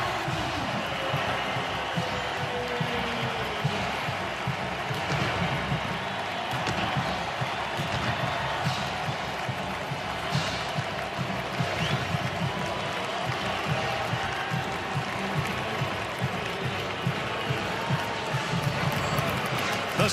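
Home stadium crowd in Bloomington roaring steadily as the undefeated Indiana Hoosiers football team takes the field before a Big Ten game against Michigan, a dense continuous cheer throughout.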